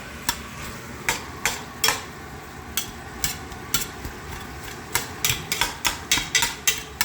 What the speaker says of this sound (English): Now we'll get those onions.